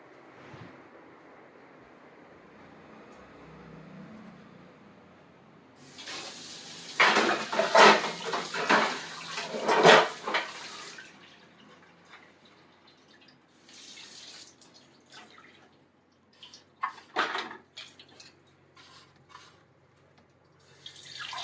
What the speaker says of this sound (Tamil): பாத்திரம் கழுவதாம்மா போறேன்